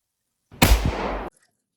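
A Spencer carbine, a Civil War-era lever-action rifle from 1860, gives one sharp metallic clack as its hammer is cocked, a single short burst, close and alone.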